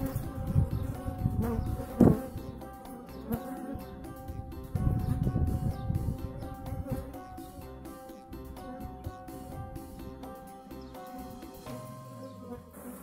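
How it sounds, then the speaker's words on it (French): A honeybee swarm buzzing steadily around a small nucleus hive box while beekeepers try to coax the queen and cluster inside; a dense insect drone fills the whole stretch, with occasional louder swells. "tant que la reine ne rentre pas dans la ruchette, l'essaim ne rentre pas non plus."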